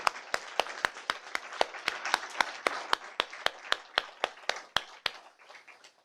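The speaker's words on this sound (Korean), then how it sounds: "우리 박수로 뜨거운 영광, 박수로 하나님께 영광 올려드립니다" Christmas thanksgiving service congregation in a Korean church clapping in a steady, rhythmic unison beat, about twenty sharp claps that gradually soften and fade out near the end.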